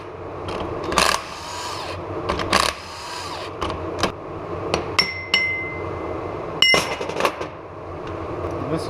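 Ring gear being removed from a Jeep JK Dana 30 differential: several sharp metallic hammer blows and clinks spaced irregularly, with tool clatter in between, close and fairly loud.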